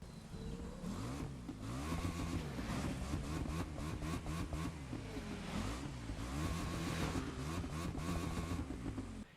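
A KTM 1190 RC8 twin-cylinder motorcycle engine in the racing game Motorfest, loud and close, revving and rising through gears with repeated shifts and a throbbing, continuous roar with no talking.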